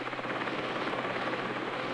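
Steady, continuous rotor and engine drone from a rescue helicopter in flight, moderately loud with no pauses over a brief stretch.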